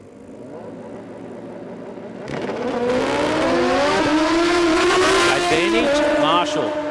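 Honda and Suzuki drag racing motorcycles launching down the strip at a Queensland drag racing championship round, a loud engine roar that jumps up and rises in pitch through rapid gear shifts, with a commentator talking over it.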